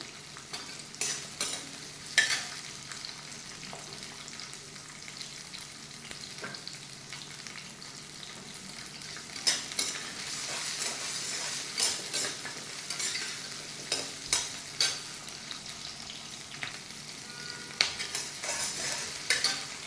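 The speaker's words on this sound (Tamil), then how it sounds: "சின்ன வெங்காயம் நல்லா வதங்கணும்" Small shallots sauté in a pan, giving a soft continuous sizzle for twenty seconds, punctuated by repeated sharp scrapes and clinks of a spatula stirring against the metal, with no voices.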